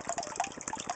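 A small porch pond filter runs, giving a soft, steady trickle and burble of falling water with faint bubbly splashes, quiet and close.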